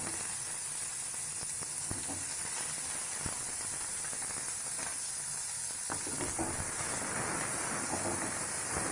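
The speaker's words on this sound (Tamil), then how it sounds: "நல்லா பொன்னிறமாக வறுத்துக்கலாம்." Onion frying in hot oil in a pan for vada curry, a continuous close hissing sizzle with faint scattered crackles throughout, no voices.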